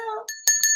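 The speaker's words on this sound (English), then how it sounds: "Oh, there go the bell." A bright bell rings in two quick strikes with a clear sustained tone, coming right after a brief fragment of voice.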